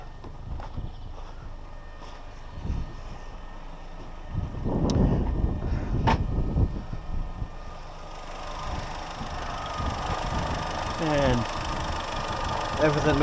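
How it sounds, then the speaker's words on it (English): A Mini One car engine idles steadily with the bonnet open, a low continuous hum with occasional knocks and clatter while a person talks nearby. "So we'll open the bonnet up a minute whilst the engine's running."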